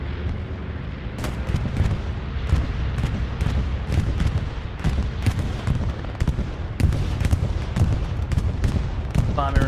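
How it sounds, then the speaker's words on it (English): Bombing run in the video game Hell Let Loose: a dense, continuous rumble of explosions with repeated sharper blasts breaking through, loud and sustained for the whole stretch. "Bombing run's coming in. I assume it's an allied bombing run."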